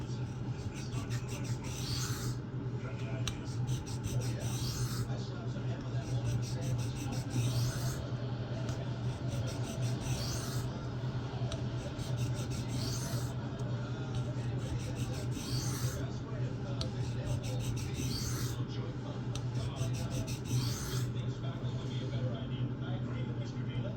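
A knife is sharpened freehand on a sharpening stone, a continuous close rasping scrape in repeated strokes lasting the whole stretch, with a low steady hum beneath.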